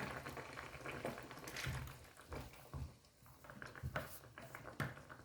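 A spicy red curry of bitter melon and shrimp boils in a pot, giving a steady, close bubbling and gurgling with soft liquid pops throughout and no talking.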